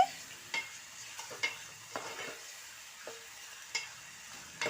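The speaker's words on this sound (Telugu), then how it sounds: "ఇంకొక గిన్నెలో నేను ఆయిల్ వేసి రొయ్యల్ని" Prawns fry in oil in a pan with a faint, low sizzle, broken by about eight sharp scraping knocks as a utensil stirs against the metal pan.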